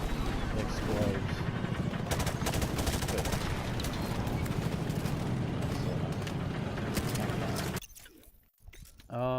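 Rapid, dense gunfire and explosions from Call of Duty: Modern Warfare Remastered, loud and continuous for most of the stretch before cutting to a brief near-silence and a final burst.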